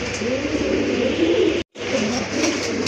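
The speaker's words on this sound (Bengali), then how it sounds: "এটা কিন্তু খুব ভালো ডাকে কবুতরটা" A pied black-and-white pigeon coos continuously in a low, throaty warble close by, with a brief dropout partway through.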